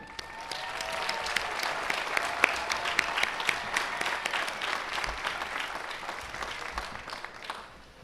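Applause fills the hall at a university business administration commencement, thanking the Grand Marshal; a steady, moderately distant round of clapping from a large crowd that swells and then gradually fades.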